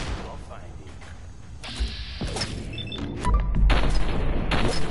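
Gunfire in Fallout 4 booms amid game noise, with a few heavy shots and a louder blast near the end as someone talks over the action.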